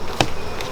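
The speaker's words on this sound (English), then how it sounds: "Ooh, we got a packed box of bees." Honeybees hum in a crowded hive box during an inspection, a close, steady buzz with one sharp brief spike near the start.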